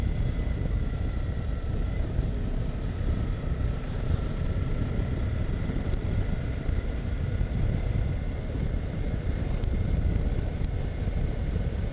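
A motorcycle out on a ride, its engine a steady low rumble buried under heavy wind buffeting on the microphone, continuous and unbroken throughout with no speech.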